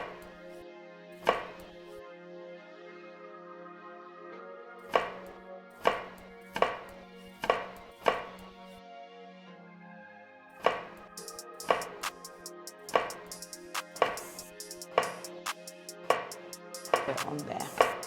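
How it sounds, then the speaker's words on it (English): Vegetables being chopped with a knife on a cutting board while preparing a minced meat and veggie stir-fry, a run of sharp, irregular chops that quickens into rapid close-up strokes over a soft kitchen background hum. "you can just chop your vegetables"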